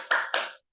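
Two quick, sharp hand claps sound close together in a classroom clap chant, then stop and leave silence.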